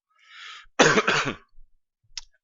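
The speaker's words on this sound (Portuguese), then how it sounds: "Peço desculpa pela tosse" A single throaty cough burst close up, preceded by a soft breath and followed by a brief faint click, in an otherwise quiet room.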